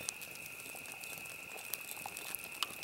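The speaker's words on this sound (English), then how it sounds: "Take this meat and set it right on the coals." Meat sizzling and hissing directly on hot coals of an open fire, a steady crackling frizzle with occasional sharp pops, close and moderately quiet, no talking.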